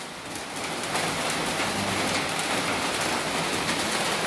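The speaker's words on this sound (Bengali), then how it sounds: "এই যে দেখো বাইরে ঝমঝম বৃষ্টি হচ্ছে" Heavy rain pours outside, a dense, even hiss of drops on surfaces that swells slightly after the first second and stays steady.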